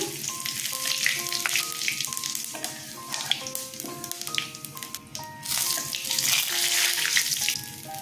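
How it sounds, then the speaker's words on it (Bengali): Dried red chilies, bay leaf and cumin seeds sizzle loudly in hot oil as a tempering, a dense crackling hiss that persists throughout with faint tonal music in the background. "শুকনো লঙ্কা, তেজপাতা দিয়ে দিলাম ফোড়নে, জিরে ফোড়ন দিলাম"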